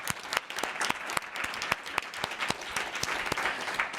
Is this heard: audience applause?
yes